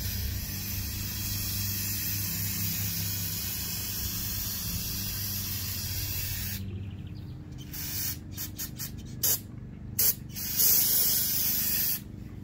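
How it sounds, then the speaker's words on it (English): Cleaner being sprayed onto dipped dirt bike carburetor parts such as the float, a long continuous close hiss that breaks into several short spurts toward the end, alone without talk. "Spray this down."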